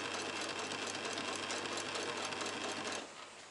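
A sewing machine stitching curtains for a Toyota Coaster bus runs at a steady loud whir, close by, then slows and drops off sharply near the end, with no voices.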